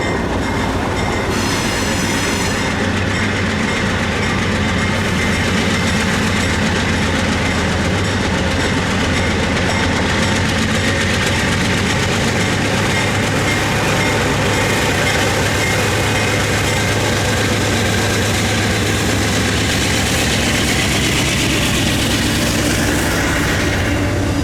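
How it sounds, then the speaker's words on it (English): Amtrak GE Genesis diesel locomotive on the Floridian, its engine chugging in a steady loud low drone with rail and wagon noise, close by and continuous with no talk. "It's bittersweet knowing this awesome GE chug might not have long on Amtrak"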